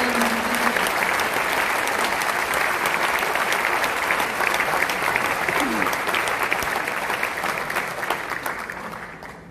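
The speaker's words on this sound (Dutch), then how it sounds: "Geef dus alvast een applaus en aanmoediging." Audience applause fills the whole stretch before a percussion ensemble performance, steady dense clapping from a large crowd that fades slightly toward the end.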